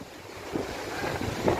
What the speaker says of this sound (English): The sea is looking angry today, but I love it. It's windy.